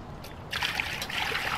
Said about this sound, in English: now I'm going to put some water into the Dutch oven.